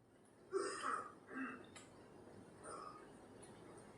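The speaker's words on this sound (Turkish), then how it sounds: "yine öksürüyor" A few rough, throaty coughs and throat-clearing sounds from a Red Dead Redemption 2 character, fairly quiet, in short bursts with brief pauses between them.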